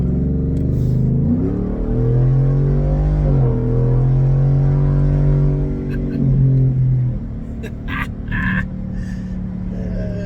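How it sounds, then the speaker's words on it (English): A truck engine revs up loudly, its pitch climbing and holding before dropping back, with a few faint clicks and rattles near the end. "So we'll kind of give a little gas now."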